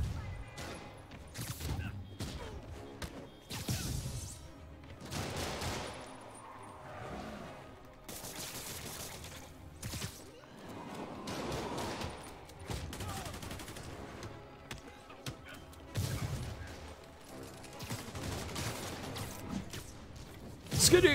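Gunfire from enemies rings out in Spider-Man Remastered, sharp bursts and rapid volleys scattered through the fight, mixed with game effects and a voice talking now and then.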